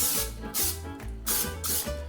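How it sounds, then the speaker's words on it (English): A canola oil cooking spray can coats a baking dish in several hissing bursts, each lasting about half a second and separated by brief gaps, loud and close with no voices. "make sure you spray it I know that this is bad for your health because it contains like canola oil in it"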